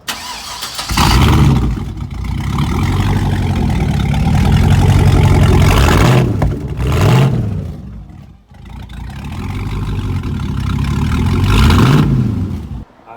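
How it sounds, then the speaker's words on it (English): Straight-piped truck cold-starting at about one second, then a loud, rough, steady rumble close by, broken by several sharp throttle revs that rise and fall, with a brief dip before more revving. "Let's hear a good cold start, rumble and rev."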